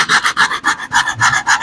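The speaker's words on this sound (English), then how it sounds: "So you want to do all your heavy sanding with that 80 grit" Heavy sanding of a plastic car bumper with 80 grit paper, a steady back-and-forth rasping with about eight even strokes, close and loud with no voices.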